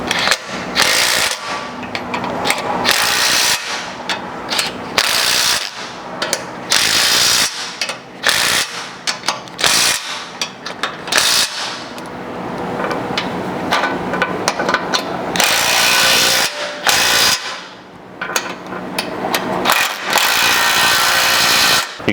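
Ratchet work on bumper bolts while a rear strike bumper goes onto a 4th Gen truck: dense, rapid metallic clicking and knocking close to the mic, with brief pauses throughout.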